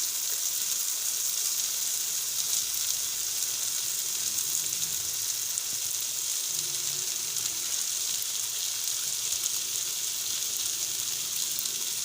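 Rice tipped into a pan of softened tomatoes and ghee for a restaurant-style vegetable pulao, giving a steady, even sizzle that holds throughout with no talking.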